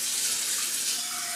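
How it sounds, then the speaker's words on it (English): Tap water, about two and a half cups, pours steadily into a casserole dish for making a rice-based cranberry chicken dinner, a continuous close splashing rush with no talk. "just dump it right in the bowl."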